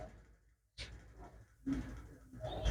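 Flying pigeons kept for sale coo softly and intermittently nearby, with faint rustles and movement in a quiet setting.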